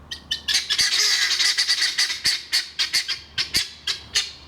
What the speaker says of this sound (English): Set the chicken off in the background as well.